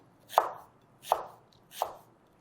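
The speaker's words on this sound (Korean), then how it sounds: "파는 어슷하게 잘라주시면 되세요." Three evenly spaced knife chops slicing green onion diagonally against a cutting board, crisp and close, each with a brief slicing swish.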